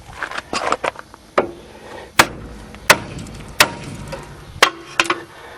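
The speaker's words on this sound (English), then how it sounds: "take your big hammer, or mini sledge, whatever you want to call it, and now whack it right there" Mini sledgehammer strikes a ball joint on a front-wheel-drive axle to separate it, giving a series of sharp metallic whacks at irregular intervals, loud and close, with no talking.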